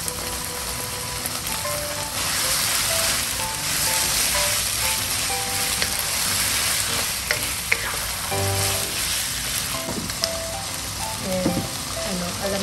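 Chicken for panang curry sautés in a pan with a loud, constant sizzle and frying crackle, joined by frequent scraping and clinking strokes of a spatula stirring, close up and without talk.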